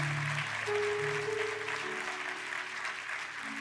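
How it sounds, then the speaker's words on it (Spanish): A church congregation claps together in a steady wash of applause during a service, filling the room at a moderate distance, with a sustained musical tone running underneath. "¿Cuántos dan un aplauso a Dios bendito?"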